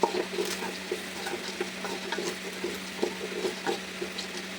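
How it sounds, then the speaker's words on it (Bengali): Rice being stirred and fried dry in a pot for khichuri, giving a steady scraping and soft crackling with light, repeated patter of a spoon against the pot, moderately close with no talk. "চালটা আমার ভাজা ভাজা হয়ে গেছে"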